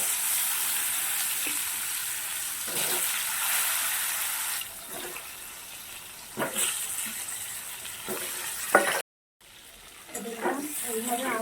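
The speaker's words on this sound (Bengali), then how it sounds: "এবার আমি পটলটা ভাজবো।" Pointed gourd rubbed with salt and turmeric fries in a little oil over gentle heat, giving a steady close sizzle broken by a few clattering stirs and one brief pause.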